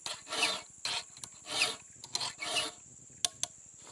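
Hand file rasping a chainsaw chain's cutters, a series of rough strokes about one per second, close and alone, with a couple of sharp metallic ticks toward the end.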